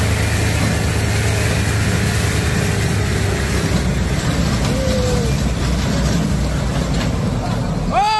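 A sand truck's engine idles steadily in a street setting, a continuous low rumble that stays constant throughout with faint background noise and no clear speech.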